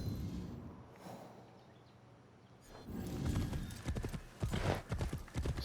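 Horse hooves clip-clop in a rhythmic trot while riding in the video game Assassin's Creed Shadows, quiet at first, then louder and clearer in the second half, with a faint voice talking underneath.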